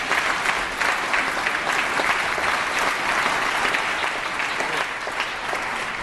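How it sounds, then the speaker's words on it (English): Sustained applause fills a state assembly floor chamber, a dense, steady patter of many hands clapping at even loudness throughout, with no voices standing out above it. "Anyway, applauding."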